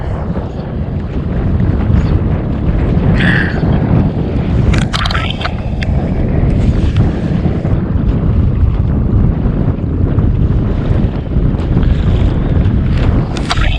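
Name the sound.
wind blowing while fishing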